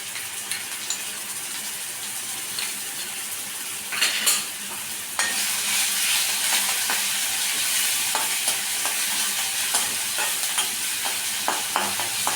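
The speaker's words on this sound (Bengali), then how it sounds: "একটু ভালো করে ভেজে নেব" Onion paste from a whole ground onion frying in a pan, a continuous close sizzle that jumps louder partway through, broken by sharp spatula scrapes and clinks against the metal, with no one speaking.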